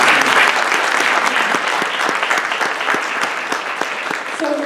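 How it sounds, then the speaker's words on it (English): A conference audience at a diversity pre-law opening session applauds Evangeline with dense, loud clapping that holds steady and slowly thins toward the end. "give Evangeline a round of applause"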